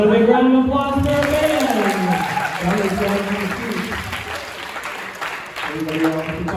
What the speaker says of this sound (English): How about a big round of applause for our band?